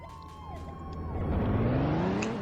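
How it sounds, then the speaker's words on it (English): A fire truck siren wails at a distance, its rising and falling tone swelling louder over a couple of seconds amid street traffic. "There's a guy in the fire truck over there with his siren going."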